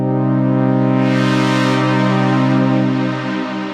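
An Arturia MiniFreak synthesizer holds a sustained chord while aftertouch pressure on the keys adds reverb, the tone swelling brighter and washier midway before easing slightly toward the end.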